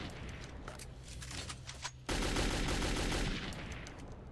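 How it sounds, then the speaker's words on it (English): Rapid automatic gunfire in the video game Metro 2033, a dense burst of shots that suddenly swells into a louder, continuous roar of firing, close and intense with no talking. "I'm just shooting randomly."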